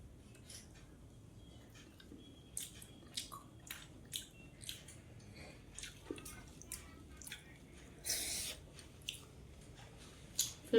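Someone eats gandharaj pointed gourd chicken curry, with soft wet chewing and squishy bites alongside occasional cutlery or plate clinks, close and fairly quiet, arriving in irregular bursts.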